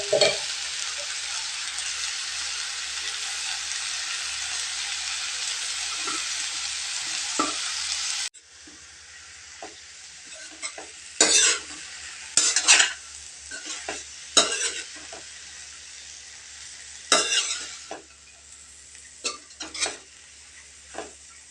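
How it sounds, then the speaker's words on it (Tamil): Drumstick leaves and lentils for poriyal fry in a pan with a steady loud sizzle, then quieter frying broken by repeated scraping stirs of a spoon against the pan. "நல்லா புரட்டி புரட்டி கிளறி எடுத்துக்கலாங்க."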